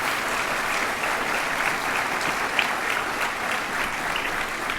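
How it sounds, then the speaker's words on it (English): Steady applause from a large audience at a chemical engineering spring graduation ceremony honoring parents, an even, continuous patter of many hands heard from a moderate distance, with no talking over it. "So how about a round of applause to all the parents of the class of 2025."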